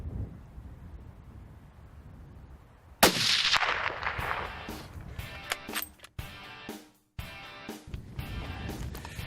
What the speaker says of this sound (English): that first shot really put the smack on him, but I wanted to put another one in him to make sure he was down